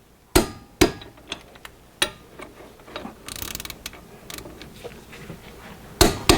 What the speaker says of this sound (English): we torqued both caliper bracket bolts